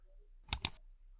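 A computer mouse gives two quick, close clicks in a row in an otherwise quiet room.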